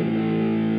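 A thick, buzzy electric guitar chord through a fuzz distortion pedal on a single-coil Telecaster sustains steadily for under a second, heavy in the low end.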